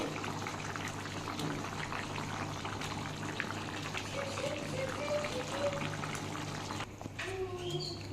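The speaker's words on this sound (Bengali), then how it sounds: "এটা আমার ফুটছে আমি এবার সোয়াবিনের বড়াগুলো দিয়ে দেবো" Liquid for a soybean fritter curry boils steadily in a pot, a soft continuous bubbling and popping with a faint trickle, while someone talks over it near the end.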